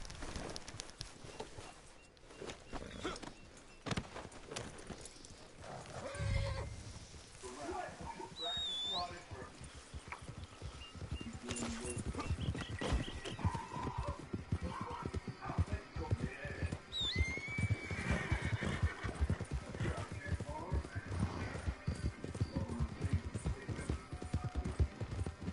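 Horse hooves clip-clopping steadily with occasional whinnies and snorts in Red Dead Redemption 2 Online, amid game background sounds; people talk intermittently over it.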